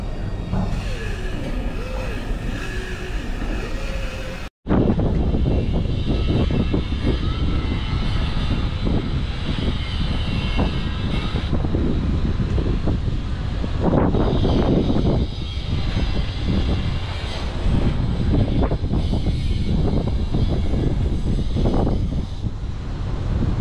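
A ship's electric motor drive opens a cargo hold cover, rolling it along on rollers: a loud, steady mechanical drone that runs continuously after a brief cut, with varying rumble and whine and no speech.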